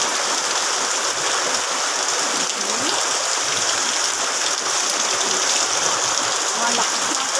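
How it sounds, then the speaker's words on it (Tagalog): Heavy rain pours down in a dense, constant hiss that stays steady and loud throughout. "Palakas ng palakas ang ulan."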